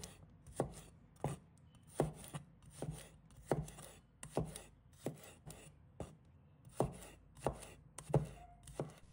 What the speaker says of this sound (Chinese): 准备几个大蒜，把它切成片。